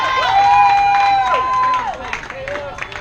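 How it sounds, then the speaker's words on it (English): A crowd at a 14-and-under girls' softball game applauds and cheers after a running catch by the center fielder, with clapping mixed with shouts and whistle-like calls, loud and close for a few seconds before tapering off. "Crowd gives a nice applause as Weaver was able to track that down the gap."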